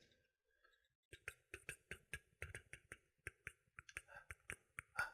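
A voice imitates typing a text message with rapid mouth clicks, a quick irregular run of sharp close taps that starts after a second of near silence and keeps going to the end.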